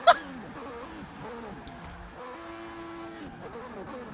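Racing cars in a Forza Motorsport 6 IndyCar versus F1 lobby, engines wailing at high revs through shifting pitch sweeps after a sharp crash impact at the start, with tire noise and several cars passing closely.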